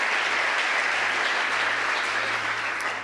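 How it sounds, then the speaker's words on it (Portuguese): Congregation applause in a church service led by a pastor, a dense, loud, continuous roar of clapping that holds steady before easing slightly at the end. "Os que podem dar a Jesus uma linda salva de palmas"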